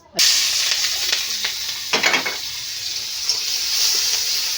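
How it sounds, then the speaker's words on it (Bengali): Crushed garlic drops into hot oil in a wok and bursts into a sudden loud sizzle. Spattering and stirring follow close by, with a few sharper crackles along the way. "এখন এই যে দিয়ে দেবো রসুন বাটা, রসুন বাটা না তো থেতো করা আর কি"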